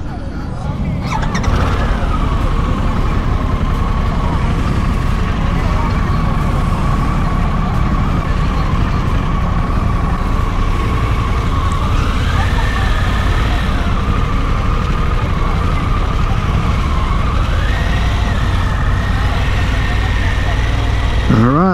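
Harley-Davidson Pan America 1250 Special motorcycle on a demo ride: a steady, loud engine drone with heavy wind rumble throughout, and the engine pitch rising twice as the bike accelerates.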